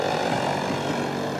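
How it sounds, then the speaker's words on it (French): Small military drone flying over Baghdad, a steady droning propeller engine hum that holds even and continuous overhead without breaks. "Le bruit et la silhouette furtive d'un drone."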